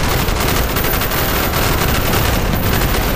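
Sustained, dense automatic gunfire from squadmates laying down covering fire in a Call of Duty battle through city streets, loud and continuous with overlapping bursts.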